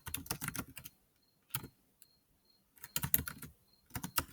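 Bursts of computer keyboard typing as someone fills in an evidence log, quick clustered keystrokes in three or four runs separated by short pauses, close and fairly quiet.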